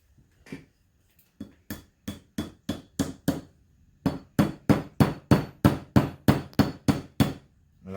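Hammer driving a seal into a utility or boat trailer wheel hub, sharp metallic blows close up: a few sparse taps, then a steady run of about twenty evenly spaced strikes with a short pause midway.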